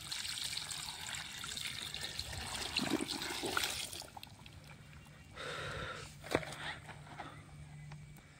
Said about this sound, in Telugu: నీళ్ళు కూడా తీసుకొచ్చేస్తా, వేసేద్దాం.